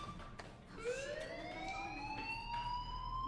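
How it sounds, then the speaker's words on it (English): A rising, wailing alarm tone from the video game Life is Strange swells in and holds steady with layered harmonic pitches, loud and continuous under a low background rumble, with no one talking. "do you hear that fire alarm?"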